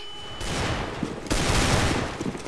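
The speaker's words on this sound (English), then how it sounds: "Throwing flashbang." A flashbang grenade goes off in a video game, a loud broadband blast that sustains briefly, swells with a second burst, and fades over a couple of seconds, heard alone without talk.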